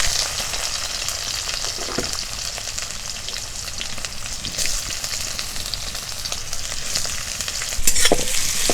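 Onion fries with five-spice (panch phoron) in a little hot white oil in a heated karahi, a dense close sizzle with spoon scrapes and taps scattered throughout, getting briefly louder near the end, with no speech.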